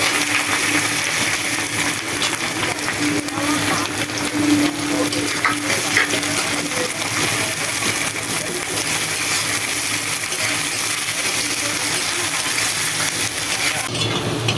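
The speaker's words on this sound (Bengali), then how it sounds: "পেঁয়াজটা আমার লাল লাল একটু ভাজা হয়ে গেছে" Chopped onion sizzling in a hot pan with garlic, for a Bengali dish of greens with liver: a steady, dense crackle and hiss of frying throughout, close and fairly loud.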